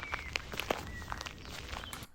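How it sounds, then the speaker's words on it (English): Player footsteps in the video game Alone in the Forest, a steady run of soft crunching steps through forest ground, close and fairly quiet, with faint bird chirps in the background. "These are footsteps for the player."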